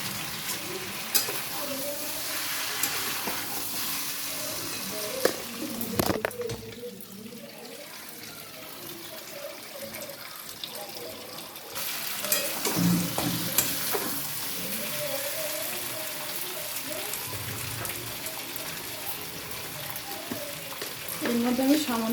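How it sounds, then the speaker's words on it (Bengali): Chicken sizzling and being stirred in a frying pan while cooking lemon chicken, a steady broadband fry with scattered scraping stir sounds and a brief running-tap splash, close and continuous with no talk. "চিকেনটাকে তো ভালোভাবে নেড়ে নিচ্ছি। মোটামুটি চিকেনটা কষা হয়ে গেছে।"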